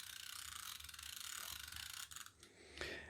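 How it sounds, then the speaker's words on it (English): The manual film winder of a Ricoh 500 RF rangefinder camera is wound: soft, close ratcheting clicks run in a quick continuous stream and end with a couple of firmer mechanical clicks. "The only thing you need to do is pull up the lever and wind up the winder"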